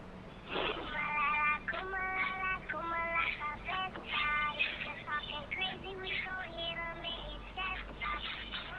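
Several short, high, warbling meows from a cartoon cat repeat across the clip over a busy background of music and effects, with a voice briefly speaking.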